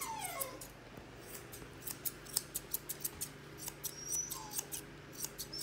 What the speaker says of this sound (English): whatever's hanging over at the back of the pad, cut that off.